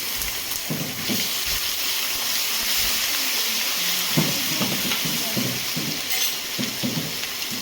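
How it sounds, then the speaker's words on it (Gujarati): Mustard seeds, cumin, asafoetida, curry leaves and ginger-chilli paste temper in hot oil for a jowar flour khichu, making a constant close sizzle with repeated low stirring thumps and bubbling bursts throughout. "આપણે તેલ ગરમ થઈ ગયું છે, એમાં આપણે રાઈ જીરુંનો વઘાર કરીશું"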